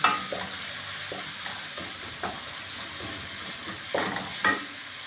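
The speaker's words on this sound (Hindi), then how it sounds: "2 टेबलस्पून लहसुन अदरक का पेस्ट। अच्छे से इसको भूनेंगे।" Two tablespoons of garlic-ginger paste fry in a pan for lamb pulao, a steady close hiss of sizzling oil with occasional louder stirring scrapes.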